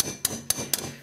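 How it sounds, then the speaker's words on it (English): Three sharp, evenly spaced clicks from a torque wrench ring out close by as a Yamaha Grizzly ATV's front brake bolt is tightened, each a crisp metallic snap. "Get the torque wrench out here."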